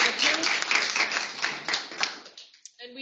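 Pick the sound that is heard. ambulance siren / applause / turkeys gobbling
applause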